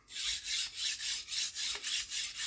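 An axe or knife blade rubbed flat across a Sharp Pebble sharpening puck, making about nine steady rasping strokes in an even back-and-forth rhythm, close and clear with no talking.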